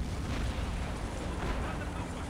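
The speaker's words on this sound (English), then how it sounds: "They have some really big arty." Heavy artillery in the video game Men of War: Assault Squad 2 booms in a dense, continuous barrage of blasts, loud and close throughout.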